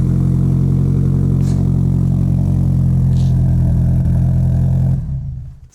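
A JDM right-hand-drive turbo all-wheel-drive Subaru hatchback engine drones loudly and close at a steady idle with a deep rumble and faint ticking, then cuts off near the end.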